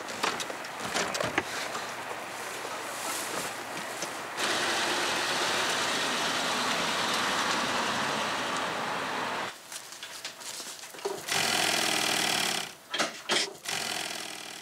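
Sewing machine stitching fabric in a small wheelchair workshop, a steady mechanical whir that runs continuously, drops out briefly near the end, then resumes in short loud bursts.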